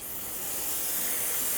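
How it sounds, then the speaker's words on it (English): Solvent sprays in a steady, continuous hiss onto a Hummer H3 wheel hub during front brake work, close and fairly loud without pause, no talking. "you can spray it down with some solvent"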